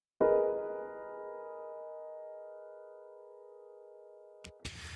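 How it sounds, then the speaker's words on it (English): A single synth chord stacking the second degree with a minor third and fifth strikes with a bright attack, then holds as a steady, clean sustained tone that slowly fades for several seconds before cutting off, with a brief noisy burst at the end. "that would sound like this when you use it with the minor third and the fifth together"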